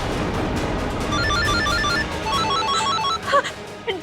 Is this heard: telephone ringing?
yes